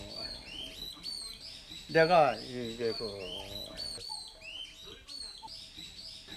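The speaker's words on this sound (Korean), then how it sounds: "새가 왜 이렇게 울어대?" Birds chirp and tweet outdoors at Deokpojin, a historic coastal fort site, with repeated high calls scattered through the clip while people talk nearby.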